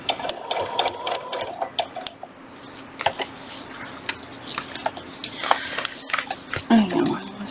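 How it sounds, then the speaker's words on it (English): A sewing machine stitching a straight stitch on a hooded towel, a fast steady mechanical whir with ticking needle clicks, close and moderately loud, broken by brief pauses and small handling knocks. "switching to a straight stitch"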